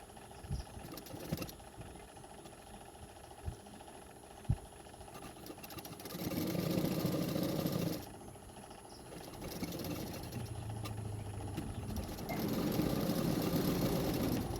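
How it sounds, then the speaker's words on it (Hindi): Sewing machine stitching a katori blouse, running in steady bursts of whirring motor hum, loud and close, with short pauses and quieter handling sounds between stitching runs. "एक सिलाई कर दिया, उसके ऊपर मैंने और एक सिलाई कर दिया है"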